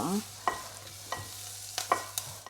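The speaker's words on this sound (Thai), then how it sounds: "ก็ใส่แฮมลงไปนะคะ เอาไปผัดด้วยให้เขาหอมๆอ" Ham stir-fries in a pan with a soft sizzle as a spatula scrapes and clinks against the metal several times, fairly quiet and close, with no voices.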